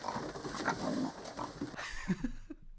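Raccoons eating sausages give grunting, pig-like oinks and squeals, short uneven bursts mixed with chewing, close and moderately loud over a steady noisy background.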